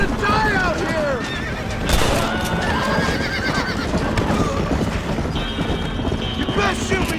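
Horses neigh and whinny with clip-clop hooves in a Red Dead Redemption wagon scene, steady and close, with wind and someone shouting over them.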